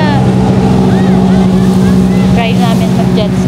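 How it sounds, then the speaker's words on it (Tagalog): A jet ski roars steadily at sea off Subic with a loud, unbroken droning engine buzz and wind buffeting the microphone, while voices call out faintly over it. "Mag-jet ski na si Madam."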